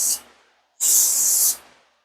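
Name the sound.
spraying cleaner into a cup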